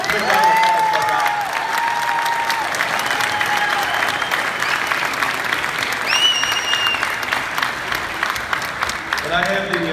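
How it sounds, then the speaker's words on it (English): Sustained crowd applause with some cheering at a men's basketball national championship celebration, steady clapping throughout with voices and whistles rising through it. "So please, big round of applause for that."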